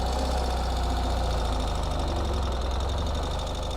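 A modern two-wheel-drive Ural motorcycle's engine chugs in first gear, a close, steady throbbing drone with rapid regular pulses and a mechanical rattle, holding an even pace with no talk.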